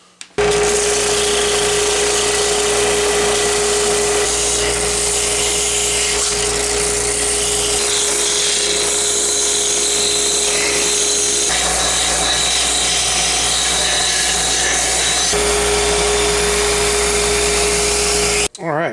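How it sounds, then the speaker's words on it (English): A belt sander working wood for a wooden book wall decor piece, running loud and continuous throughout with a steady motor whine and rough abrasive rasp, stopping only at the very end. "It's about 15, maybe 20 minutes on the belt sander."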